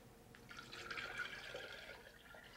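Water runs steadily into a jug for Kool-Aid, a soft continuous splashing pour of about two seconds, faint and alone.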